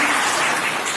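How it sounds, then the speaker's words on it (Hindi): A crowd claps together at a Swachh Bharat Mission village gathering, a dense, loud, continuous burst of applause lasting about a second. "एक बार वीडियो साहब के लिए ताली बजा दीजिए भाई।"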